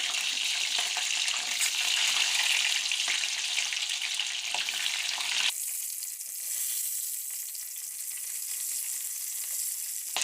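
Chopped tomatoes drop into a pan of chicken Shinwari karahi frying in oil, a loud steady sizzle that shifts abruptly to a softer, hissing fry partway through, with no voices.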